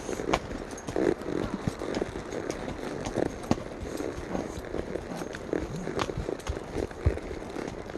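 A horse walks rather than gallops up a steep hillside of about 30 degrees from a river, with close, irregular hoof thuds and scuffs over several seconds and faint background noise.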